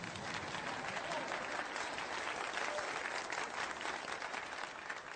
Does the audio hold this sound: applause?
yes